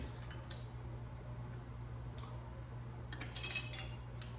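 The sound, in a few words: screwing metal lids tight onto canning jars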